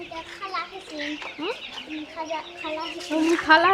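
Chickens and chicks cluck and chirp close by, short repeated calls overlapping one another in a busy farmyard chatter, with a person's voice speaking over parts of it.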